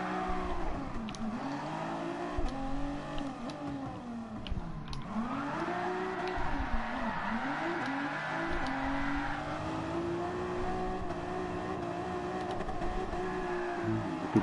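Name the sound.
car drifting with tire squeal in a racing video game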